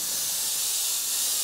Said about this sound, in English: I'm going to go onto the other side and I'm going to spray white